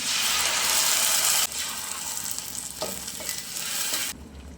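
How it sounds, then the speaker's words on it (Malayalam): Ground tomato paste being stirred into frying onion and green chilli masala, a steady loud sizzle with scraping stirs, briefly quieter midway and fading near the end. "തക്കാളിയുടെ പച്ചമണം പോകുന്നിടം വരെ ഇതൊന്ന് ഇളക്കി കൊടുക്കാം"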